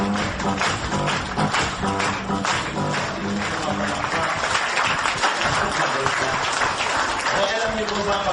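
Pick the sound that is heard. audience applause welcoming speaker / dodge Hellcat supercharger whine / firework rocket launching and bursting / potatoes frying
audience applause welcoming speaker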